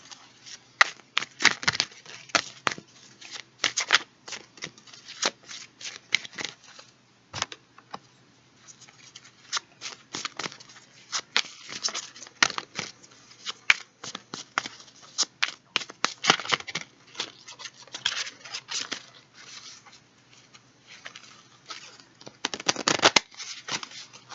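Tarot cards are shuffled by hand up close, giving dense, crackling riffles and soft slaps in uneven bursts with short pauses between.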